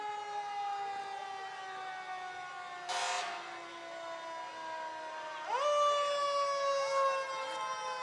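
Wailing fire sirens sound during a community parade, with several sustained tones gliding and shifting pitch together, a brief burst of broadband noise near the middle, and a rising sweep toward the end, steady and loud throughout.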